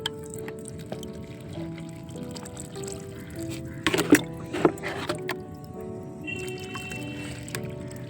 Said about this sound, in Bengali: এবার আমি দিয়ে দেবো ভর্তি করে জল